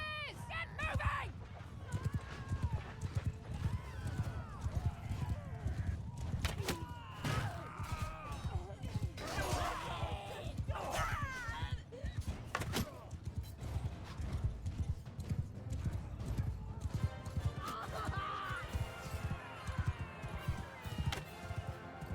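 Cavalry horses in Mount and Blade II: Bannerlord gallop through a long battle, their hoofbeats thudding constantly with occasional neighs, crashes and whacks of fighting, while a voice speaks at times.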